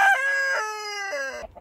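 Backyard hens feed on chicken grain from a trash can, with one long, loud crowing-like fowl call close by that holds steady and then drops in pitch before fading, and no talking.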